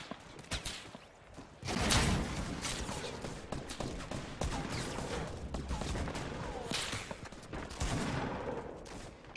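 Gunfire in a Fortnite match, a scatter of shots building into sustained rapid firing at moderate distance, fairly faint with faint background noise.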